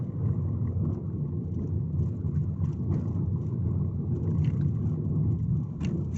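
A learner driver's car pulls away on a driving test route in Ipswich, its engine and road rumble steady and close throughout, a continuous low drone with no talk.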